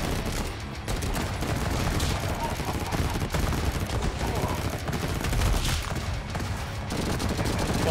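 Rapid SMG gunfire from the Madness: Project Nexus video game, dense sustained bursts of loud close shots running almost the whole time with brief gaps, chaotic game noise mixed in.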